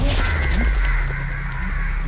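Crows caw harshly from a large banyan tree, several loud rough calls overlapping close by against a steady background hum.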